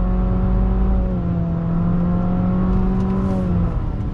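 A 2020 Infiniti QX50 luxury compact SUV accelerates on throttle out of a right-hand bend, its engine note holding a loud, steady drone heard from inside the cabin with no talk.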